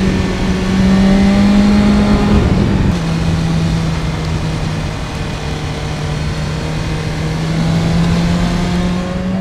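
A superbike engine drones loud and sustained while cornering, its pitch holding high, then dropping with a brief shift before settling into a steady strong note, with rushing wind noise over it.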